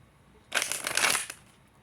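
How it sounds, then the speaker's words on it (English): A deck of tarot cards is riffled in one brisk burst of rapid, crisp flutter lasting under a second, close and clear against a quiet room. "I can't even shuffle right now."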